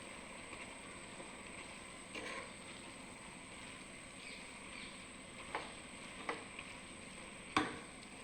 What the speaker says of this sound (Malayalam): നല്ലതുപോലെ ഒന്ന് നമുക്കൊന്ന് ഇളക്കി കൊടുക്കാം